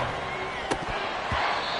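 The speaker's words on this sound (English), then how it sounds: "This crowd turning up the decibel level." Stadium crowd roaring steadily in a Madden NFL football game after a sack on the way to third and long, a dense continuous wash of cheering with a few brief thuds and shouts poking through.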